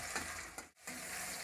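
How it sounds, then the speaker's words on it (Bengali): Chopped tomato frying with onions in a pan for a Bengali rohu fish curry, a steady close sizzle with one brief break. "দিয়ে এবার টমেটোটা একটু ভাজা হোক"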